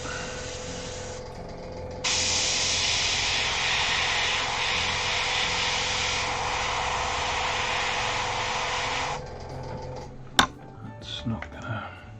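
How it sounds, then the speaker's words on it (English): An airbrush mixing hobby paints gives off a loud, steady hiss of rushing air that runs for about seven seconds and then cuts off, followed by a few soft knocks and handling sounds. "Mixing airbrush paints is a noisy endeavour."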